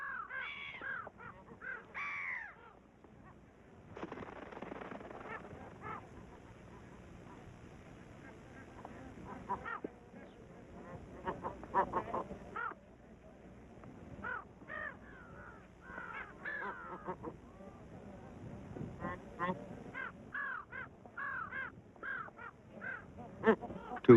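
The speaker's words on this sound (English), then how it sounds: "Another scavenger, the brown-headed gull, has come to profit from the chaos." Brown-headed gulls calling amid a scavenging scramble at broken goose eggs in the Ladakh Himalayas, harsh repeated cries in irregular bursts, some near and some farther off, over a steady background.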